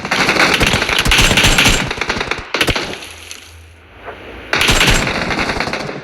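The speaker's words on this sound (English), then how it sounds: "Someone has me lined up on a scope because they were shooting at me." Loud automatic gunfire crackles in long rapid bursts on a battlefield near Pokrovsk, breaks off briefly with a single sharp shot, then resumes with another close, sustained burst.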